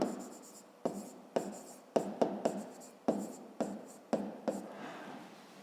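A pen writes figures in a school maths notebook: about a dozen short scratchy strokes in uneven bursts, close and quiet.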